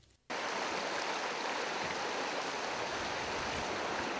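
A river near a village by the Bwindi orphanage in Uganda rushes with a steady, loud broadband roar that starts abruptly and continues unbroken, heard close without voices.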